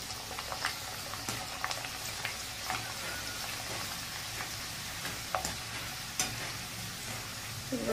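Papdi frying in hot oil while being stirred for murmura chivda, a steady close crackling sizzle with occasional sharper pops and faint scraping throughout.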